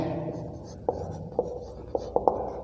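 Chalk or pen writing during a physics lecture on magnetic effects of current, a series of sharp taps and strokes under a teacher's speech in Hindi.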